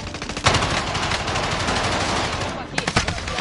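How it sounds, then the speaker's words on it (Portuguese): Machine gun fire in a shooter video game, loud rapid bursts close by, a long stream of shots followed by a short pause and another burst, with no talking. "Tô tomando tiro."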